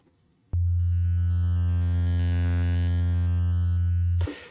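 An analog synthesizer sounds a single steady, buzzy tone rich in harmonics. It starts abruptly, holds loud and unchanging for nearly four seconds, then cuts off.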